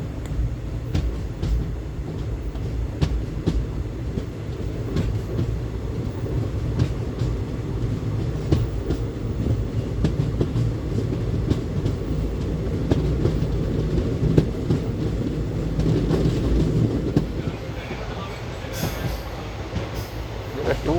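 The 16512 Kannur–Bengaluru Express runs on a diverted route, its carriages rumbling continuously with rhythmic clickety-clack wheel beats and occasional squeals, loud and close from inside the train for about twenty seconds.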